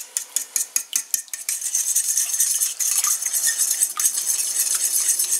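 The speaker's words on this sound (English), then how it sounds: "How about we put just a little bit of beer in there?" A utensil clinks rhythmically against a bowl while stirring a chicken wing mixture with a splash of beer, sharp taps giving way to a steady wet swishing, close and alone.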